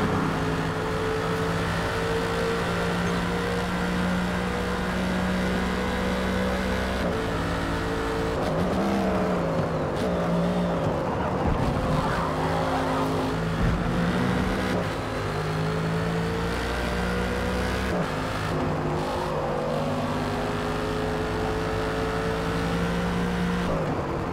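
Race cars in a racing video game, a Mercedes AMG GT3 dueling a Viper, roar continuously with steady engine drone, revving shifts and occasional tire noise, loud and unbroken throughout with no talk.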